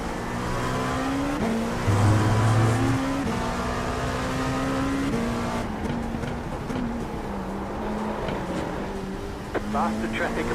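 A race car in the Assetto Corsa Competizione sim game drones steadily with engine tone shifting through gears and faint tire noise, while someone talks over it throughout.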